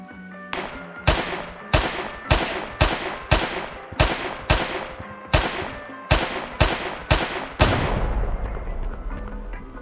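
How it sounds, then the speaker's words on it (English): A gun fires repeatedly at about two shots per second in the virtual reality game Gorilla Tag to detonate placed C4 charges, each sharp loud report ringing briefly before a final louder rumbling blast. "Then you use a revolver or any gun or any explosive to detonate them."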